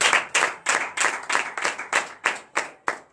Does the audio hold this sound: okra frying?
no